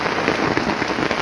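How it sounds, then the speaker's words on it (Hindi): Heavy monsoon rain pours down in Shimla: a loud, dense, continuous hiss of drops pounding the surface, with no voices. "क्योंकि बहुत तेज़ बारिश जो है वो शुरू हो गई है।"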